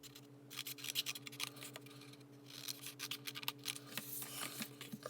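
Scissors cutting paper along fold lines for a candy holder, a series of quiet close snips and crisp rustles in an irregular rhythm over a low steady hum.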